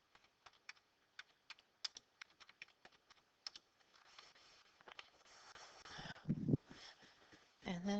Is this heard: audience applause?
no